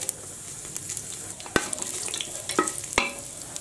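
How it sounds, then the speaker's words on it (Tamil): Mustard seeds and dried red chillies fry in hot oil, giving a low sizzle punctuated by a handful of sharp, distinct pops and crackles close by. "கடுகு நல்லா பொரிஞ்சிருச்சு வரமிளகாய் சேர்த்துக்கலாம்"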